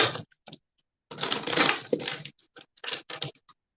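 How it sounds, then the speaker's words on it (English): Tarot cards being shuffled by hand, close and dry, with a long riffling burst in the middle framed by short taps and flicks of the deck, no voices. "I'm going to go ahead and shuffle because I dropped them"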